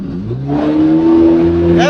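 Motorboat engine at sea near Cox's Bazar running in reverse, a loud steady drone with a strong sustained tone that swells after a brief lower start, with a voice briefly audible.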